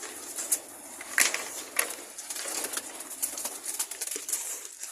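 Pigeons in a loft waiting for a feed of pellets and corn, with soft scattered cooing, brief wing flaps and light rustling patter close by, fairly quiet throughout.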